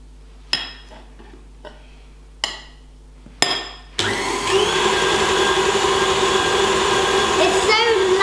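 An electric mixer whips Nutella buttercream icing: a few clinks and knocks come first, then a loud, steady whirring drone kicks in and runs on without a break.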